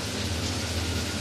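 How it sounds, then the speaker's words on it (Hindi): Steady broadband hiss of rain falling outside, continuous and fairly loud with no distinct drops or other sounds over the short stretch. "बारिश हो रही है बाहर"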